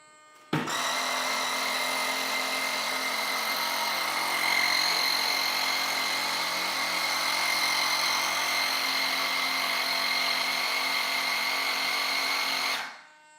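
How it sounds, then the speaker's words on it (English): An air compressor kicks on abruptly during an RC F-14 jet engine run, a loud, steady mechanical whine with strong tonal hum that holds evenly for about twelve seconds, then cuts off cleanly. "you're going to hear the compressor kick on most likely"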